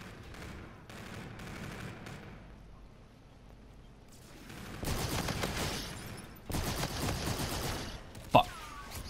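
Gunfire in a shooting video game, bursts of automatic shots that start moderate, fade, then return louder in two sustained volleys, with a sharp single crack near the end.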